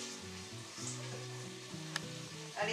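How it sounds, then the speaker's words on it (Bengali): Food frying in a pan with turmeric and salt gives a soft, steady sizzle, with a faint clink partway through and a brief louder scrape at the close. Quiet throughout, with no talking. "একটু ভাজা ভাজা হয়ে যাক, ওই হলুদ হলুদ নুন সব ঢুকে যাক"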